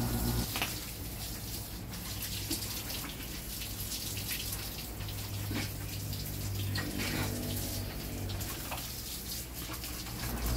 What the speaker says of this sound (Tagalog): dito ay pinaliliguan natin para malinis silang tingnan